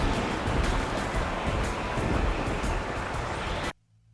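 Strong, steady wind roars in the SAR4 flight simulator game, a loud continuous rushing gust with no voices, cutting off abruptly to near silence at the end.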